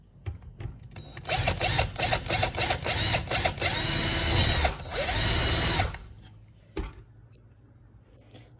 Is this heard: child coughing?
no